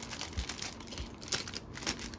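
Plastic wrap crinkling and rustling as it is pulled tight and tied around a hydrangea bouquet in a flower shop, a close, continuous crackle with uneven bursts.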